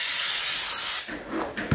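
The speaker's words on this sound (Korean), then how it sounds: "강력 스프레이로 일단 부착을 시켜 놓습니다." Strong spray adhesive hisses out of a can in a steady, loud burst for about a second, used to fix material in place during carbon-fiber film heating installation; the spray cuts off, leaving faint handling noises.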